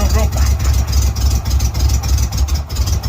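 A freshly installed 3.0L engine in a 1992 Ford Ranger runs at a steady, loud, rumbling idle up close, with a faint voice in the background.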